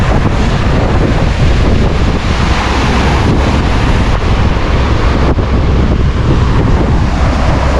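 Sea waves wash along the coast during a rainy motorcycle ride on the Infanta–Marilaque loop, a steady loud surf roar mixed with heavy wind buffeting the microphone throughout, with no voices.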